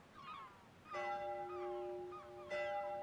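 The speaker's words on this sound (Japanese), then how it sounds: "きっとこの鐘がお昼の合図になってるんだね" A single bell rings out as a lunchtime signal in a voice drama scene, a sustained clear tone that sounds once, fades, then strikes again near the end, alone without talk.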